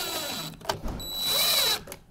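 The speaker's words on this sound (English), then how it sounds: "a light touch on the drill because they're pretty short" A power drill briefly driving short screws into the side of an RTA cabinet drawer, one quick close burst of whirring with a whine, alone and without talk.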